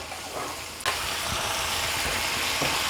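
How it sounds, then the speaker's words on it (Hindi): Minced meat hits hot oil with a sudden jump into a loud, steady close sizzle after a quieter stretch, continuing evenly with faint stirring and no voices. "ये डाल के तो इसको अब ऑयल के साथ थोड़ा सा भून लें"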